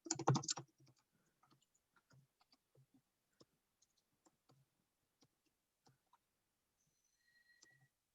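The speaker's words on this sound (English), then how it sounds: "I'm typing it into the chat so you can cut and paste it." Typing on a computer keyboard: an initial loud rustle, then sparse, irregular soft key clicks spread over several seconds, close and quiet with no talk.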